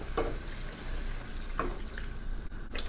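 A spoon stirring mussel soup with egg in a pot, a soft continuous bubbling simmer with a few light scraping clinks against the pot.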